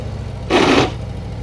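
The floorboard of a Harley CVO motorcycle scrapes the pavement once in a loud, harsh scrape lasting about a third of a second, over a quiet background.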